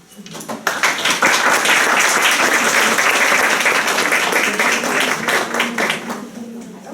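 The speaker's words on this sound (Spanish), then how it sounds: "yo quiero la verdad pedir que repitamos ese aplauso para la doctora María Elena Ceballos" Audience applause at a seminar on HIV prevention, a dense, steady burst of many hands clapping that swells quickly and holds for several seconds before tapering slightly.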